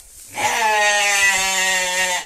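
A lamb trapped inside a covered well about three metres deep gives one loud, drawn-out, wavering bleat, heard alone and close.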